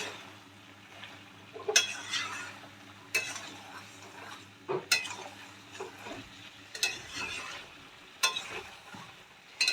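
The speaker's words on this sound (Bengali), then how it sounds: "এবার আমার সবগুলো ভালো করে মিশিয়ে নেব। ভালো করে কষা যাবে যেন আদা রসুনের কাঁচা গন্ধটা চলে যায়।" Meat cooking with ginger and garlic in a hot pan gives off a soft, continuous sizzle, broken by a series of sharp metal spoon scrapes and clanks as it is stirred, each spaced a second or two apart.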